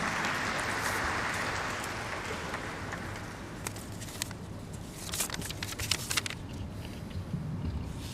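A large audience at a National Stock Exchange listing ceremony gives a sustained round of applause, a dense, even roar of clapping that thins slightly and turns more scattered toward the end, heard fairly close and without talk over it.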